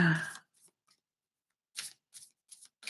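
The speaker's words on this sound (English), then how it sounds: "So shuffle them up really good." Oracle cards are shuffled by hand in short bursts of riffling and flicking, close and fairly quiet, separated by pauses, after a brief moment of voice at the start.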